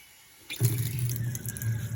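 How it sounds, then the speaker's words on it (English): Hot water runs steadily from a kitchen tap while a water pump rumbles low underneath, the flow starting abruptly and continuing loud and close to the end. "There's the rumbling of the pump."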